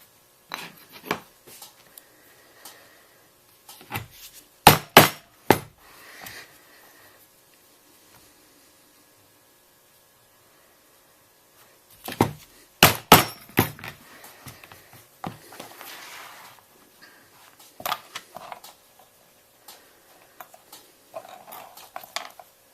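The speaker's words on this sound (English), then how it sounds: "now we're going to make some holes, and we'll go ahead and we'll rivet those on there" Holes punched and rivets hammered onto bag straps during bag sewing, heard as two clusters of sharp, loud strikes a few seconds apart, with softer handling and rubbing noises between and after them.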